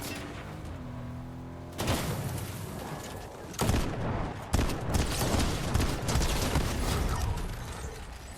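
Bursts of automatic gunfire in a Fortnite Chapter 5 Zero Build match, with loud broadband shots striking around 1.8, 3.6 and 4.5 seconds over dense, continuous battle clatter and mechanical rattling, alone without talk.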